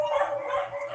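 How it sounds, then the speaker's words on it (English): Several dogs barking and yipping nearby in a short, continuous burst of overlapping calls, fairly loud and steady throughout. "the dogs are barking once again"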